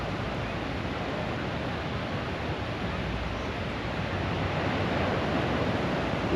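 Surf breaking on Kuta Beach in Bali at sunset, a steady broadband wash of waves rolling in, continuous and fairly loud throughout with no talking.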